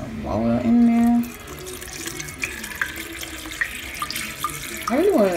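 Tap water runs into a blender jar for a green smoothie, a steady hissing flow across the whole stretch, with a voice talking briefly over the first second.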